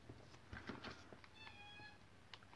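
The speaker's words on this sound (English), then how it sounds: "My cat. Can you hear my cat?" A cat meows once, a faint drawn-out call amid soft rustling and quiet background noise.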